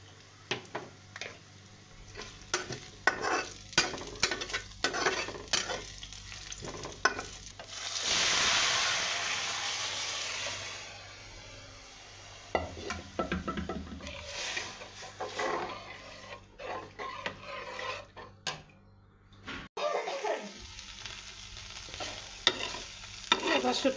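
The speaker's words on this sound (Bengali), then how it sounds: "ডালটা বাগার দিব, একটু জিরা দিই।" Dal tempering with cumin in hot oil, as spices hit the pan with a loud burst of sizzling that then settles into a long frying hiss, mixed with clattering stirring and scraping nearby.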